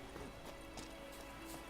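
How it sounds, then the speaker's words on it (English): Horse hooves clip-clop at a gallop in The Witcher 3, a faint, steady run of hoofbeats beneath quiet game ambience. "I was just calling my horse"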